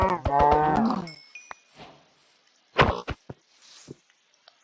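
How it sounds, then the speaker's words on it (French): A cow moos in the Minecraft video game, a loud harmonic low call in the first second followed by fainter short game sounds and clicks. "ici on a une petite vache"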